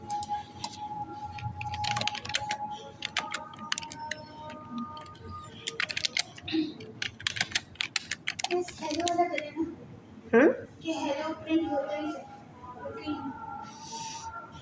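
Code is typed on a computer keyboard in rapid clattering keystrokes, close and steady, while someone talks over them.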